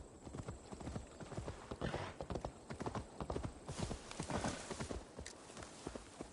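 Horse hooves in Assassin's Creed Valhalla clip-clop steadily and close by in a brisk, continuous rhythm, with faint voices in the background.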